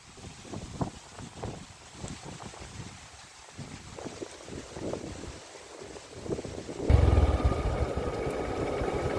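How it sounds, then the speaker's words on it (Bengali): Strong wind in Thanchi, Bangladesh buffets the microphone in gusty, rumbling roars, swelling into a heavy, sustained blast over the last couple of seconds. "প্রচন্ড বাতাস"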